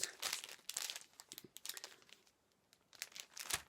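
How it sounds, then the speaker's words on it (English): Crisp crinkling of Fern cross-stitch fabric from Hand-Dyed Fabrics as it is handled, with irregular bursts of rustling and crackling close up and brief quiet gaps between. "I'm going to take it out, and I'm sorry for the crinkling"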